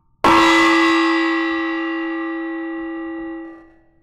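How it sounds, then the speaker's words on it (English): A single struck gong or bell-like metal strike rings out loudly, its bright shimmering tone sustaining for about three seconds before cutting off sharply. "It's gong time."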